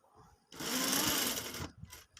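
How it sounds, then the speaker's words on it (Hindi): Sewing machine running in one short burst while stitching the side pocket of a gents suit, a fast rattling whir lasting about a second, close and clear with quiet surroundings. "ये सिलाई भी वहाँ से शुरू करनी है।"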